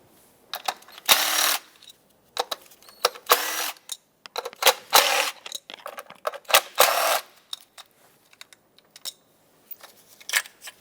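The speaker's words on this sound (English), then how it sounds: "And then use an 8mm socket, unbolt all of them." An 8mm socket ratchet unbolts the ignition coils on a 2014-2021 Mazda 6. Close, crisp bursts of rapid clicking are separated by short pauses.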